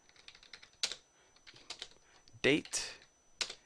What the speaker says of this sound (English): I was about to press O on my keyboard